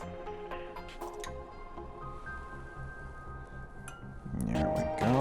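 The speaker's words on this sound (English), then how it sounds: "we measure 1 tablespoon of dish soap into our water" A tablespoon of dish soap trickling into water in a glass jar, soft drips and a small liquid pour close up, ending with a brief louder splash and clink.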